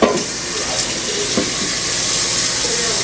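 Tap water runs steadily into a pot of soaked beans, a continuous close splashing and rushing fill with faint clinks, no talking.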